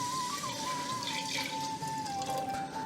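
Water being poured from a cup onto bamboo rice in a pressure cooker, a steady continuous liquid stream with a faint ringing tone, close and even throughout.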